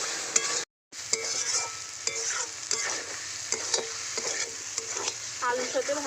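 Fried potatoes being stir-fried with cooked-down spice paste for a Bengali prawn curry, an ongoing sizzle under repeated scraping and tapping strokes of a spatula, with one brief cut to silence near the start.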